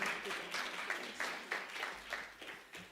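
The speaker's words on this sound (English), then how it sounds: "A clap for Jana op den Winkel." Applause from an audience at an award presentation, with a slightly irregular pattern of claps, moderately loud and fairly close.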